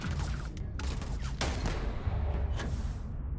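Gunfire in the Starfield video game, a dense loud volley of shots with sharp cracks and booming low rumble, continuous over a few seconds with no talk.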